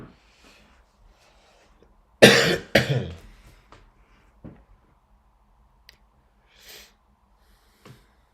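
Two sharp, forceful coughs close together, followed by a few softer throat noises and breaths in an otherwise quiet space.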